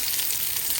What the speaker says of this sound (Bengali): তেলটা গরম হয়ে আসছে, পেঁয়াজ দিয়ে দিলাম, একটু বেশি করেই দিলাম।